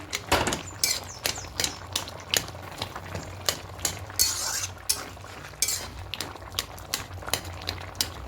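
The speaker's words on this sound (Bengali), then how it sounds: "আলুগুলো সেদ্ধ হয়েছে একটু ঘেটে দেবে হবে" Boiled potatoes being mashed with a utensil in a pan for a milk and poppy seed posto dish: a steady series of sharp scraping taps and clinks, close and fairly loud, with no talk.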